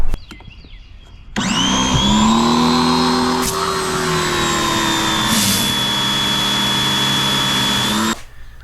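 A DeWALT 2400 pressure washer starts up and runs at a loud, steady whine for several seconds, with a faint hiss from the spray, then cuts off abruptly.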